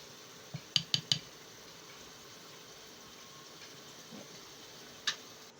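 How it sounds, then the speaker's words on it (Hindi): Utensils clink against a bowl while Russian salad ingredients are mixed: a quick cluster of four sharp clinks early on, a softer knock later, then one more clink near the end, over quiet room noise. "अब इन तमाम चीज़ों को अच्छी तरह से यकजान कर लीजिए।"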